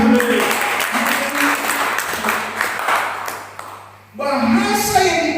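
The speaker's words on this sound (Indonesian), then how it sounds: "Berikan dulu tepuk tangan bagi Tuhan" Congregation claps during a Pentecost church service, a busy wash of applause mixed with voices and tonal sound, dipping briefly before a voice and music swell back in.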